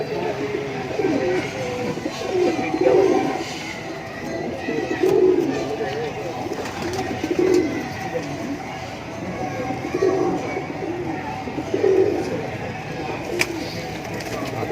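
Female Lal Pari pigeon on a rooftop, cooing in a regular series of soft, low calls about every two seconds, fairly close, with background hum and some voices.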